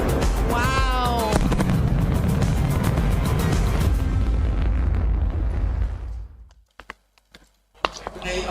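A New Shepard rocket booster's sonic boom arrives as a loud, broad rumbling blast that sustains for several seconds, then cuts to near silence broken by a few sharp cracks.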